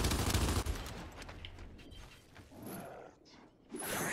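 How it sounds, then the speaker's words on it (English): Gunfire in the video game Gears 5, a loud burst of shots at the start, then quieter scattered shooting and game effects before another loud blast near the end. "Shooting."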